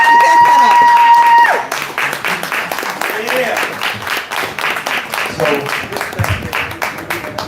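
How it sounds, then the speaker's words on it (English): After a tone cuts off, a small audience at a live show claps in a scattered, uneven burst, individual claps audible and fluctuating in loudness with voices mixed in. "Y'all clap off the stage"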